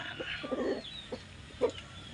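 Rooster of the RDA bloodline in a backyard breeder setup of mostly black fowl, giving a few short clucks and calls with a louder note near the end, close by, with no talk.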